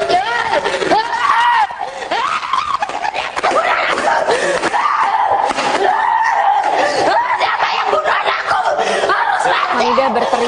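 A grieving mother crying and screaming hysterically outside a hospital morgue door in Bali, loud, continuous wailing amid a noisy crowd of voices.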